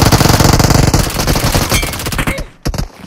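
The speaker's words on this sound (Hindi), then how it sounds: "तभी मुझे इस कंपाउंड से फायर की साउंड आती है।" Gunfire from a compound in a battle royale video game, in a solo versus squad match. Loud, rapid automatic bursts run continuously, then thin into a few separate shots near the end.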